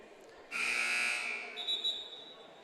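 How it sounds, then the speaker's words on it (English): A loud electronic buzzer at a basketball game sounds for about a second, ending a 30-second timeout in a high-school JV boys game, with a thinner high tone lingering afterward over a quiet gym murmur. "There's that second buzzer."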